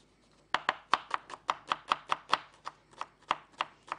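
A knife finely chopping onions on a board for an Egyptian okra and meat tagine, a quick steady series of sharp, close taps in a quiet kitchen.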